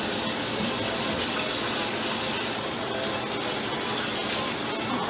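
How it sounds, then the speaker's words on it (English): Tap water runs steadily from a faucet while hands are washed in a kitchen, a close, continuous gushing hiss with no pauses and no voices. "Let me wash my hands."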